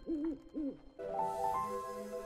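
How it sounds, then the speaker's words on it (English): An owl in a video game gives two distinct, close hoots, followed by a sustained tonal game music or ambient layer. "Like that owl."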